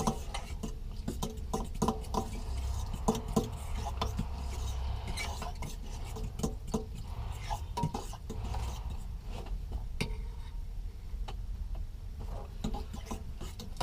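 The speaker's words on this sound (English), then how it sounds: "Let us give it a stir." A utensil scrapes and stirs food in a skillet on a truck camper stove, with irregular clinks and rubbing scrapes against the pan over a steady low background hum.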